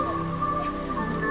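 Monsoon rain falls steadily at Rani Jhari, a scenic edge point near Kalasa in Chikkamangaluru, a soft, continuous patter heard on its own in a brief moment.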